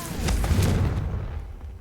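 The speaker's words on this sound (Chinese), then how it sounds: "让我展示一下我新学的爆炸魔法。" A muffled explosive boom from an explosion spell in Hogwarts Legacy bursts out, then rumbles and fades away within about a second.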